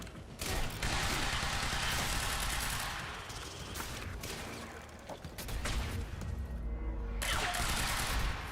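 Rapid gunfire bursts pour out in the Quantum Break video game, loud and dense for most of the stretch with brief lulls and mechanical clatter between volleys.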